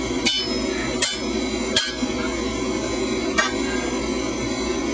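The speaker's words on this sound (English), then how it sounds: "You can see that the hammer I'm using is just barely within my control." A large hammer strikes an iron bloom four times at uneven intervals, each blow a sharp, ringing metallic impact, close and loud over a steady roaring background like a forge or blower.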